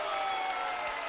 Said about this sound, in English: new person, they need to clap